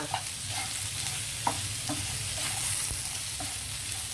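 Potato fry tossed in a pan with spice powders, the spatula scraping and clacking in an uneven rhythm over a continuous moderate sizzle, nearby and without speech.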